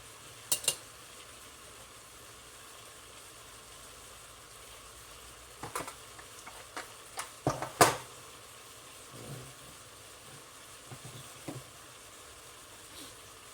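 Beef browns in a pot for caldo de res, a quiet steady sizzle broken by scattered metallic clinks and scrapes of utensils against the pot, clustered in the middle.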